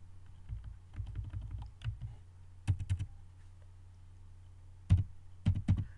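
Keys clack on a computer keyboard while entering spreadsheet formulas, in quick bursts of typing separated by pauses, with a few firmer single presses such as the Enter key, close and fairly quiet.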